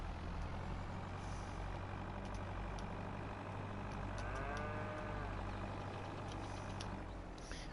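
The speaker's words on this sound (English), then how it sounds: "You just run over the bloody cattle." Cattle moo in the Farming Simulator 22 video game, a drawn-out low call rising and falling over a steady truck engine drone, fairly clear and mid-distance.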